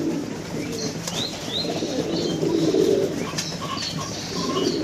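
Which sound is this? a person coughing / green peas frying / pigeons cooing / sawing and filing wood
pigeons cooing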